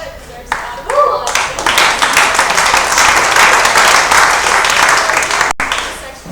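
A student town hall debate audience breaks into applause, a dense burst of clapping that builds quickly after a brief spoken remark and holds steadily before tapering off.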